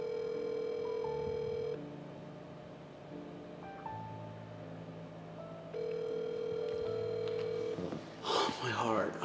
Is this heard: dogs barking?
no